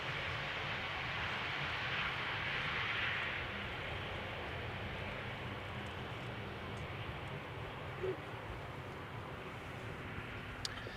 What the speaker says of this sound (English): Now a pair of E2 Embraer 195s is coming in to both runways.